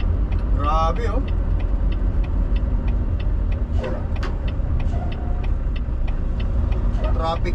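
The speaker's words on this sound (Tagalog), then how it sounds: "Traffic yata rito sa Main Street." Road traffic hums steadily on Main Street in Winnipeg, heard from inside a moving car, with a turn signal ticking in a regular rhythm and a voice speaking briefly at the start and end.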